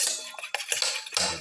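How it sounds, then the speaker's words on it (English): Eggs, yolks and whites together, whisked in a bowl, giving quick scraping clinks of utensil against dish in a short burst, close and moderately loud with no talking. "Mix the yellow and the white portion of the eggs together."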